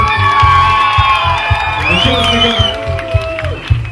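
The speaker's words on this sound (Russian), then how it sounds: "Еще раз давайте поддержим бурными аплодисментами наших" Concert audience at a variety-performance course graduation cheering and whooping, with children shouting amid the crowd noise; steady close crowd roar with sharp claps at intervals and someone speaking over it.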